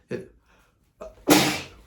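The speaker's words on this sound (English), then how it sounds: "I felt that sneeze coming." A quick intake of breath, then one loud, explosive sneeze close by, trailing off into a breathy exhale.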